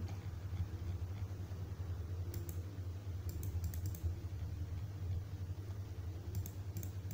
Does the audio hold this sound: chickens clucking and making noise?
no